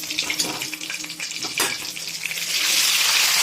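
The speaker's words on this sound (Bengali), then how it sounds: "বাট আমরা সামান্য একটু ভেজে নিচ্ছি" Peas sizzling in a pan over a high gas flame, a bright hissing fry with occasional clinks, growing louder and denser toward the end.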